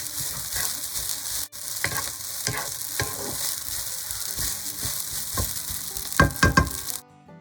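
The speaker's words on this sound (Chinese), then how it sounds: "这个时候的炒饭已经好了，我想吃得更焦一点，所以需要再翻炒1到2分钟" Lamb fried rice with cumin being stir-fried in a hot pan, a continuous loud sizzle broken by scraping and tossing strokes of the spatula, stopping abruptly near the end.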